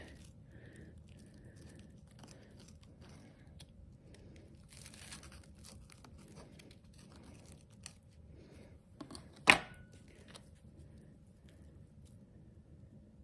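A knife cuts through a grilled cheese sandwich browned golden on both sides, with soft crinkling crunches across the quiet and one louder crisp crack as the bread breaks, close up.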